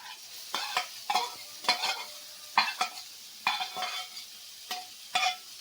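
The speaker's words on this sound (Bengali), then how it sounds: "এবার মাছগুলো দিয়ে দিচ্ছি।" Tiny, soft kachki fish fry in a pan while a spatula stirs in regular scraping strokes, each pass bringing a short burst of sizzle over a quieter background frying.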